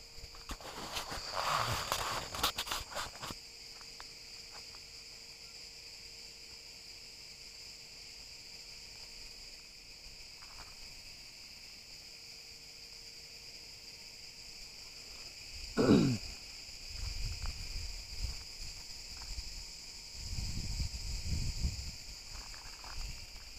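Crickets chirping in a village at evening, a steady high-pitched trill running continuously through the clip with rustling and a few brief thumps from movement nearby.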